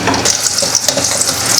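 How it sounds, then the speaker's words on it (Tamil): Garlic cloves sautéing in oil over a slow flame for vathal kuzhambu, a short burst of bright, close sizzling with light crackles throughout. "அதில் நம்ம பூண்டை போட்டு வதக்கிடலாம்"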